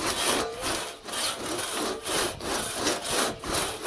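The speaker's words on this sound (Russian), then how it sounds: "Вы уже умеете пилить," A hand saw cuts through wood in steady back-and-forth strokes, each rasping pass swelling and fading in an even rhythm, close and clear with no talking.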